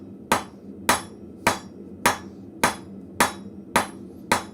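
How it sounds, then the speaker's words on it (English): A 2-pound cross peen hammer strikes hot metal in a blacksmith's forge shop, eight sharp, loud blows at a steady rhythm roughly every half second, each ringing briefly before the next, with no talk. "I am using my 2-pound hammer today."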